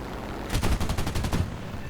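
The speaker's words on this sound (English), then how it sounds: "See, these guns are just nasty." Aircraft cannon fire from a Ki-45 Ko heavy fighter in the video game War Thunder: a loud, rapid burst of about a dozen heavy shots lasting roughly one second, rising abruptly out of low engine rumble, with no talk over it.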